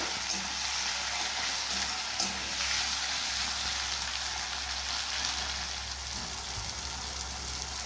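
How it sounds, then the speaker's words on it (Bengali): Pomfret fish fries with green chilli in an oiled pan, giving a continuous close sizzle with a rain-like crackle that eases slightly toward the end and no voices. "পাঁচ মিনিটের মতো আমি ভেজে নেব"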